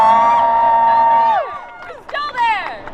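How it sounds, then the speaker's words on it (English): Crowd of protesters at a jail vigil near Atlanta cheering for a week of action against Cop City, a sustained loud swell of voices that fades after about a second and a half, followed by scattered shouts and whoops. "Yeah, cheer for that."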